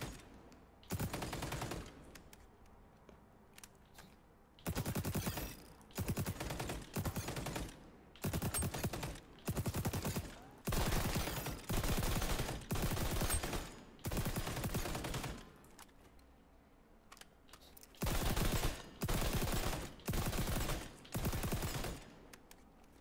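Automatic weapon bursts on a firing range in the XDefiant shooter game, long loud sustained volleys of rapid gunfire separated by short pauses, fairly close and without talk.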